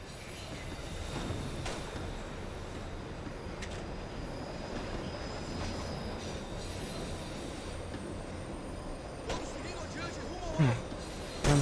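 In Max Payne 3, a train rumbles steadily alongside at close range with squealing wheels and rail clatter throughout, and someone speaks over the noise.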